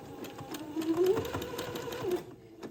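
A sewing machine runs steadily, stitching back and forth to tack down the edge of lace on a baby's diaper shirt, a close, even whirring hum that stops near the end.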